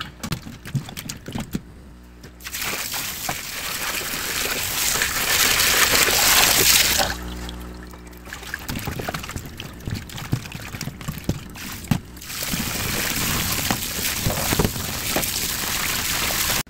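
A salted boal fish head is washed in water, with close splashing, pouring and trickling broken by brief quieter pauses and occasional knocks, fairly loud and with no talk.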